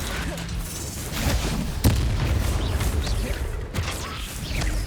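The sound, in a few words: Confringo fire spell blasts in Hogwarts Legacy video game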